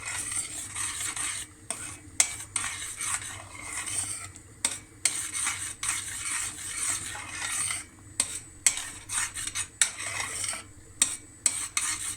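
A spoon stirring starch into strawberry filling in a pot, with repeated scraping and clinking against the metal over a soft bubbling simmer, close and fairly quiet.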